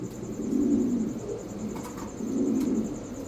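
Two low, rolling pigeon coos come one after another, close by, with a faint click between them.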